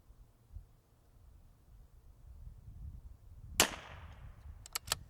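A single sharp rimfire rifle shot fired from a bag support during precision positional practice, a loud crack with a short decaying tail, followed by a few fainter clicks or metallic ticks.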